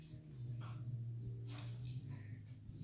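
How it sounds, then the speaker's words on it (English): Two dogs bark at the neighbors indoors, giving short muffled yips and whimpering barks in scattered bursts over a steady low hum. "if those two do not stop barking"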